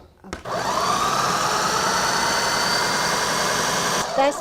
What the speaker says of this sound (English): And the green beans and cauliflower go in the blender?